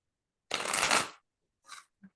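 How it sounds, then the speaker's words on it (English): Rider Waite tarot cards being shuffled: one dense riffling burst of about three-quarters of a second, then a short second rustle and a soft tap as the deck is cut, close and quiet. "Just a little shuffle here"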